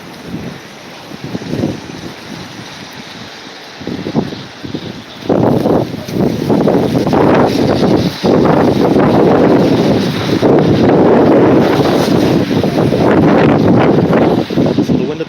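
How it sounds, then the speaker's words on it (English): Wind buffeting a microphone outdoors beside roads near Fairview Mall, heavy rumbling gusts that swell and build into a near-constant roar, briefly broken by a pause, with someone talking faintly beneath. "So the wind appears to be going northeast bound right now"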